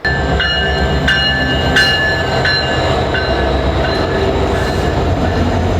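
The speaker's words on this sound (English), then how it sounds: "Our train is arriving." A train arriving at a station in Alaska rumbles and clatters steadily nearby, with repeated sharp metallic clicks and squeals over the loud, continuous roar of the wheels.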